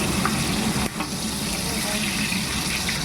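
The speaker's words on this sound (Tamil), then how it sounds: "அடுத்தது பார்த்தீங்கன்னா வெங்காயமும் கருவேப்பிலையும் போட்டுக்கலாம்" Sliced onion and curry leaves hit hot oil already seasoned with fennel, cinnamon and spices for a chicken gravy, giving a loud, continuous, close hissing sizzle that holds steady throughout.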